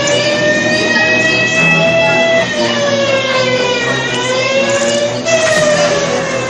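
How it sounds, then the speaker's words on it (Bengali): Wailing war siren sounding continuously during a civil defence mock drill in India, its rising and falling tone loud and steady over a dense background rumble throughout. "বেজে গেছে যুদ্ধের সাইরেন"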